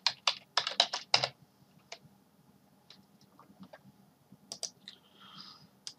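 Close computer keyboard typing: a quick cluster of crisp key clicks at first, then sparse scattered taps and a final short burst, in a quiet room.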